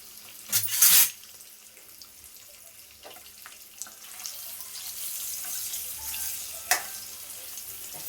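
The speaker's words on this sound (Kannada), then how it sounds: "ಸೊ ಆ ಪನ್ನೀರನ್ನ ಆ್ಯಡ್ ಮಾಡಿಕೊಂಡು ಎರಡೂ ಕಡೆ ಚೆನ್ನಾಗಿ ಫ್ರೈ ಮಾಡ್ಕೋಬೇಕು" Paneer cubes frying in a pan give a soft, low sizzle. A brief rush of running water and a few light clinks come through near the start. The sound is fairly quiet and there is no speech.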